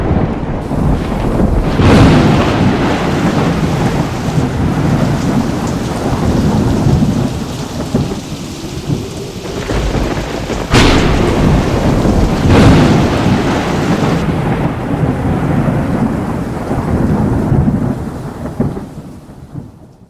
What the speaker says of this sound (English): Nighttime thunderstorms that occasionally blew in from the southwest were most terrifying, with lightning flashes lighting up the whole forest.